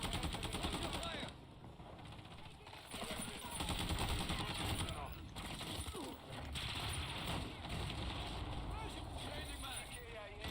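Automatic gunfire in the Modern Warfare 2 video game, sustained bursts running almost the whole time with mechanical clatter, under voices and radio chatter.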